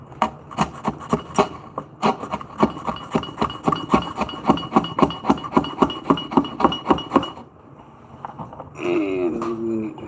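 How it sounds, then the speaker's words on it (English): Chisel struck to knock waste out of wood while building a 2x4 mallet: a rapid series of sharp, close knocks in a steady rhythm for about seven seconds, then a pause and a brief scraping sound. "turn our chisel to the side and rod these edges and knock out material"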